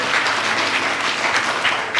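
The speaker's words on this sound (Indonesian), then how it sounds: "Berikan tepuk tangan buat." A church congregation applauds during a sermon, a steady, fairly loud burst of clapping lasting about two seconds with no speech over it.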